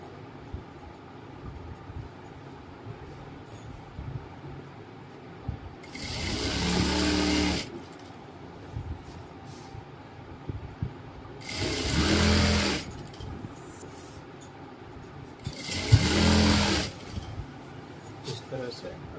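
Sewing machine stitching the seat seam of a patiala salwar: three loud, close bursts of steady whirring, each a couple of seconds long, separated by quiet gaps where someone talks.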